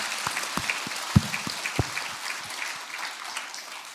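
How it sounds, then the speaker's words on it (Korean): A church congregation at a Sunday worship service claps in praise, heard as scattered, fairly faint individual claps that thin out and fade into quiet room tone. "이 땅에 오신 우리 예수님께 영광의 박수를 올리겠습니다."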